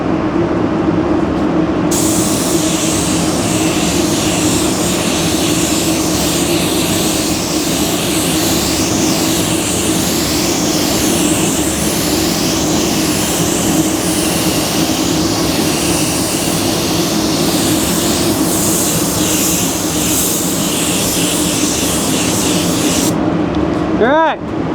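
Spray gun hisses steadily and loudly while laying down a basecoat on a car during a smart repair, a continuous near blast running almost unbroken for about twenty seconds before cutting off.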